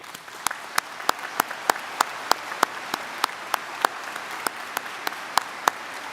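At a spring commencement ceremony, a crowd applauds in a steady murmuring wash, with loud individual claps nearby cracking out at a regular rhythm on top.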